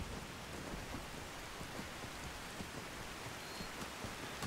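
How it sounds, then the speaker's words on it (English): Rain falls in the wilds of the video game Skyrim, a faint, steady hiss of rainfall with soft patter and low rumbling underneath, no voices. "As it starts raining."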